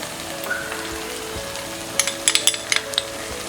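Spices frying in oil in a pan for a green chana and potato curry, a low steady sizzle with a cluster of sharper crackling pops partway through, close and moderately quiet with no talking.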